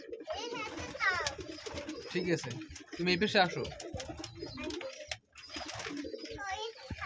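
Pigeons coo at a home pigeon loft housing around fifty pairs, their soft calls running steadily beneath close conversation between an adult and a child.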